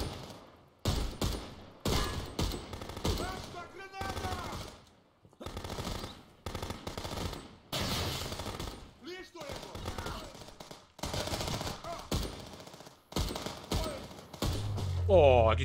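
Gunfire in the police video game Contraband Police comes in repeated bursts of rapid automatic shots and single cracks, separated by short gaps, loud and close throughout.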